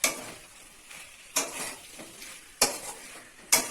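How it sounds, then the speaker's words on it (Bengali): Chicken kosha meat being stirred in a pan: soft sizzling broken by four sharp utensil clacks against the pan at irregular intervals, close and fairly quiet. "এরপরে মাংসটাকে আবার কিছুক্ষণ নাড়তে হবে।"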